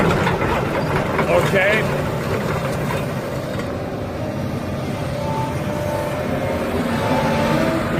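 A 2002 Daewoo Solar 220 LC V excavator's diesel engine runs steadily at idle, a loud continuous rumble throughout, with someone briefly speaking over it.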